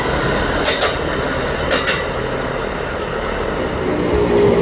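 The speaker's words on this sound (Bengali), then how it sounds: "এক নম্বরে রানাঘাট লোকাল দিয়ে দিয়েছে।" A Ranaghat local train at platform 1 fills the air with a steady, loud rumble, with a couple of short hissing bursts early and a faint squeal toward the end.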